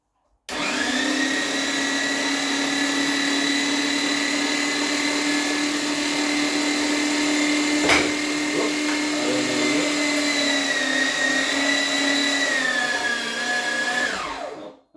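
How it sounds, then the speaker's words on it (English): An electric meat grinder runs steadily for sausage making, a loud continuous motor whine with a strong tonal hum that holds throughout, briefly straining midway, before winding down at the end. "Yeah, let's get grinding."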